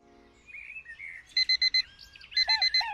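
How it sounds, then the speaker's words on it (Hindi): Bird chirps give way to an alarm clock beeping loudly in two quick bursts of four pulses each, close and piercing. "अगले दिन अलार्म क्लॉक रोज की तरह चीखी"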